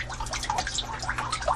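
Water squirting and splashing steadily inside a hydroponic potato growing system, a close, continuous trickle and spatter over a low pump hum, no voices.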